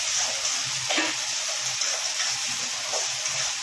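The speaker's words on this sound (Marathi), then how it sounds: "मिरची थोडीशी हलकीशी फ्राय करून घेते" Green chilies frying lightly in a pan give a soft, even sizzle with faint stirring scrapes, close and alone.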